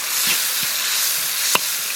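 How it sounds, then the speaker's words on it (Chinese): Soaked dried chilies, scallion, ginger and garlic frying in hot oil give a steady close sizzle with a brief sharp pop near the end. "锅里倒点油，下入用水泡软的干辣椒、葱姜蒜，炒香以后倒入调好的酱料。"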